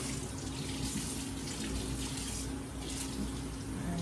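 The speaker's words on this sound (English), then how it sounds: "because I just got this out of the box, I'm going to lightly rinse it." Water runs steadily from a sink tap over a new, heavy tortilla press being rinsed after unboxing, a continuous close splashing flow that stays level throughout without talk.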